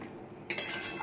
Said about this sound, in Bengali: এবার দিয়ে ভালো করে এটাকে নাড়িয়ে দেবো